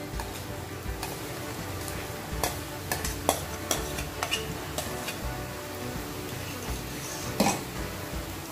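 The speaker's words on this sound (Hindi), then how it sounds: "अच्छा सा मिक्स कर लेंगे आलू को भी।" Boiled potatoes are stirred into cooking masala in a pan, with soft sizzling under scattered sharp spoon taps and scrapes against the pan, no talk.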